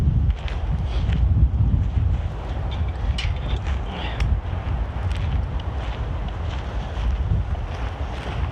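Steady wind roaring and buffeting across the microphone outdoors at a campfire, a constant loud rush with no voices.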